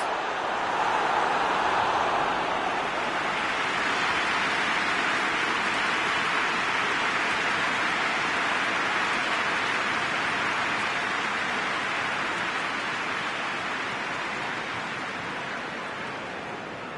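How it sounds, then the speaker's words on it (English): Rain falling during a football match simulation, a steady broad hiss of downpour lasting throughout and slowly fading toward the end, alone with no talk. "Rain starting to fall here."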